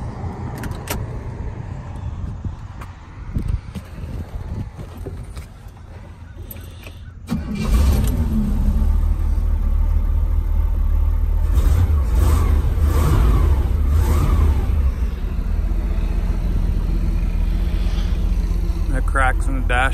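A 1967 Corvette Convertible is cranked and fires up with a sudden loud start, then settles into a deep rumbling idle with light revving. Quieter handling noises and speech come before the start.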